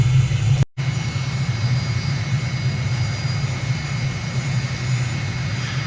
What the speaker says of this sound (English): full throttle run up just before takeoff, and now reverse it quickly to idle